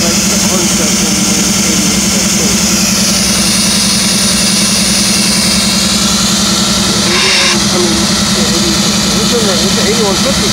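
A diesel locomotive idles while laid over and tied down at Greenville Yards, giving a loud, steady, close engine drone with a constant low throb and hiss, and someone talks over it.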